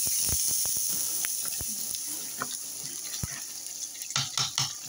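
Water is poured into a pot over rice and garlic that has been frying, giving a sizzling hiss and splashy bursts with a few sharp clicks and knocks of cookware.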